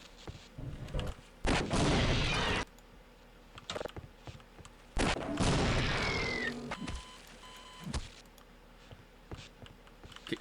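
Gunfire in the Half-Life: Opposing Force video game comes as two long bursts of loud, close shooting, separated by quieter stretches with faint clicks and a few short bangs toward the end.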